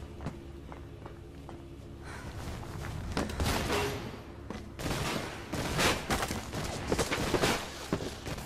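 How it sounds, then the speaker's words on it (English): Video game gunfire aimed at the player in Mirror's Edge on PS3, a dense clattering barrage of shots mixed with running footsteps, loud and continuous through most of the stretch. "Can't see who's shooting me."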